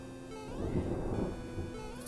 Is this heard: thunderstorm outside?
yes